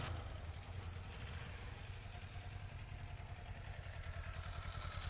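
A motorcycle at a riding school training area during a slow avoidance exercise, a steady mid-pitched engine drone heard from a moderate distance, continuous and fairly quiet with no talking.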